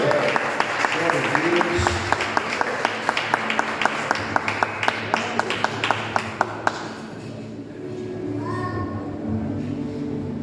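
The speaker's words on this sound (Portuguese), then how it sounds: "Vamos aplaudir o Senhor para a vida da irmã?" Church congregation applauding during a Sunday worship service, a burst of sharp claps for about seven seconds that fades out, with voices speaking over and after it.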